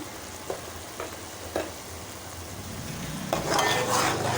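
Garam masala, cinnamon, cloves and black cumin roast in hot oil, a steady sizzle with a few sharp stirring scrapes before the frying flares up loudly near the end.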